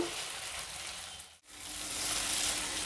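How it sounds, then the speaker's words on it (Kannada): Chopped onion and tomato fry in a pan for a pulao, giving a steady, close sizzle that briefly drops out partway through before continuing. "ಈಗ ಈರುಳ್ಳಿ ಟೊಮೆಟೊ ಎರಡನ್ನೂ ಚೆನ್ನಾಗಿ ಹುರಿಬೇಕು"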